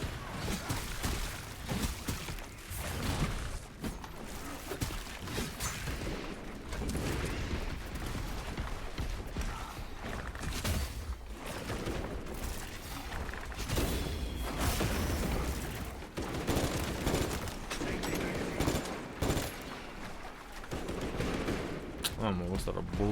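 Rapid bursts of video game gunfire crackle continuously at moderate volume, dense and irregular, mixed with booms and heard beneath occasional talking.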